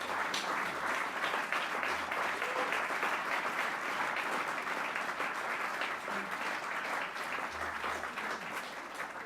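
An audience at an anniversary celebration event applauds for sponsors, a dense, steady clapping that continues without a break and fades slightly toward the end.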